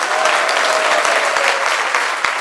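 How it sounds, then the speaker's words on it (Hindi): Audience at a satsang lecture applauding to welcome a newcomer, a dense, steady wash of clapping that holds at full loudness for the whole stretch with no talk. "ताली बजा के स्वागत करो इसका"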